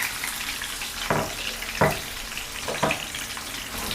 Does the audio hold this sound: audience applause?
no